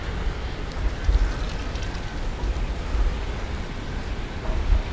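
Rain falls steadily on a Brooklyn-to-Manhattan city street where scooters and bikes are parked, a dense continuous hiss of drops with low rumbling traffic beneath, no voices.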